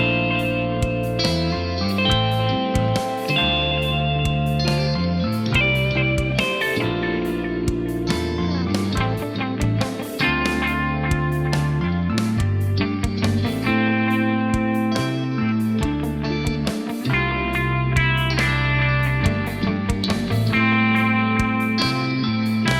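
An electric guitar runs through a Neural DSP Archetype plugin drenched in heavy delay and reverb, playing a relaxed jam of chords and melodic lines whose echoing notes wash into one another, loud and continuous throughout.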